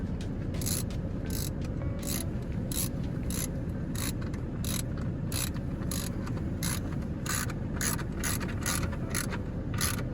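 Wrench tightening a bolt to 40 foot-pounds while installing a radio in a 2015 Ram EcoDiesel, heard as a long run of evenly spaced ratchet clicks, close and steady over a constant low background, with no talk.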